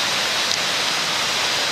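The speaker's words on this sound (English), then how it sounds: "if you follow the path here, there is a waterfall" Bermejo Waterfalls on a forest hiking trail near Santa Fe, Panama, give a constant, dense rush of falling water. The roar is steady and fairly loud, with no voices.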